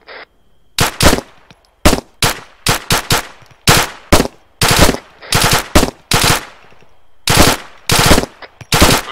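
Own-team gunfire in the military shooter game ArmA III: repeated loud bursts and single sharp shots from nearby, fired in an irregular rapid rhythm with brief pauses between volleys.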